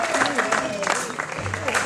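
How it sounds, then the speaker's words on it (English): A concert audience cheers and applauds during band introductions, a brief burst of clapping and crowd noise with a voice speaking over it. "All right, don't cheer too loudly."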